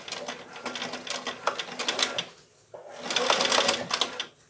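A sewing machine rattles in fast, even bursts while stitching layers of fur for a mitten, pausing briefly before running again, close and clear.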